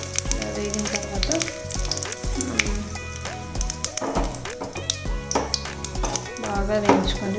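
A tempering of spices and two red chillies fries in hot oil for Rayalaseema pachi pulusu, a steady close sizzle with occasional clinks of a ladle against the pan.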